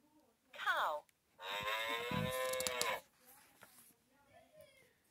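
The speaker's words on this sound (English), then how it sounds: "Cow." A cow on a farm lets out a loud, close moo after a brief higher call, one long sustained low bellow followed by quieter background.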